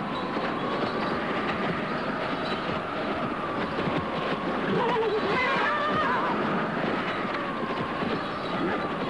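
Horses whinny in an outdoor film scene, a shrill neigh rising midway over a steady dense background rumble, fairly loud and with no talk.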